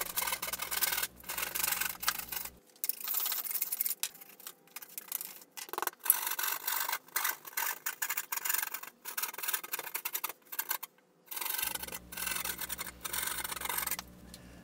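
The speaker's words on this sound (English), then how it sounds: "this piece of drywall was easier to cut with it laying on the edge of the bench" A utility knife cutting a piece of drywall laid on the edge of a bench, close irregular scraping and rasping strokes with short pauses, over a low hum that drops out through the middle.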